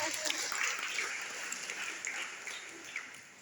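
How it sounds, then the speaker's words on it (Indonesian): Audience applause at a motivational talk, clapping for the speaker's father, sounding fairly soft and distant as a steady, dense wash of hand claps that stays even throughout with no voices standing out. "Tepuk tangan buat bapak saya."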